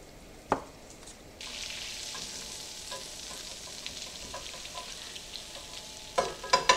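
Half a stick of butter melts in a pan with a soft, even sizzle and a few light clicks and taps, close and quiet with no talking.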